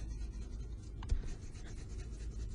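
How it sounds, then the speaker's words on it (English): An eraser rubs pencil lines off paper in steady, soft back-and-forth scrubbing strokes, close up, with a brief tap near the middle over a low room rumble. "So let me erase those real quick."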